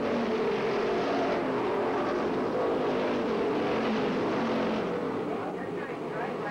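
Race cars accelerating together after a single-file restart at a short oval, a loud continuous engine roar that stays steady throughout with no break.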